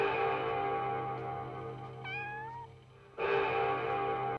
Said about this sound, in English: who's chucking that cat?